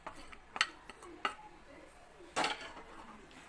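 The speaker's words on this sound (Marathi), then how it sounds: "आणि हे चांगलं हलवून घ्यायचंय मिक्स करून." Masala for matar paneer being stirred in a cooking pan, a few sparse metallic clinks and scrapes of a spoon against the pan, quiet and close, with gaps of near silence between the strokes.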